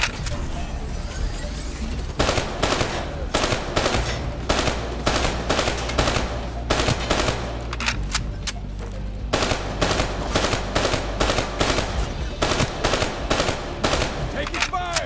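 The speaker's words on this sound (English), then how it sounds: "Taking fire!" Sustained machine gun fire in Call of Duty Black Ops 3 rattles in rapid, repeated bursts across the whole stretch, loud and close, with short pauses between volleys.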